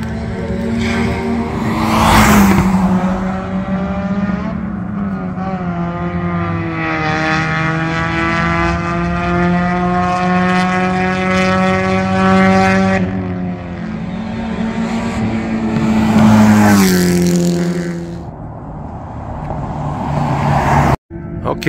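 Midget race cars roar around a speedway track in Albuquerque, New Mexico, their engines rising and falling loudly as they sweep past one after another, near and droning, with a voice speaking briefly at the start.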